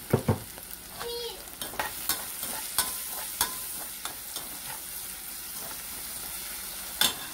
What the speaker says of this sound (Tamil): வெங்காயம் வந்து வதங்கிட்டு இருக்கும் போதே நம்ம அந்த சட்னிக்கு தேவையான உப்பு வந்து இதில் ஆட் பண்ணிடலாம்.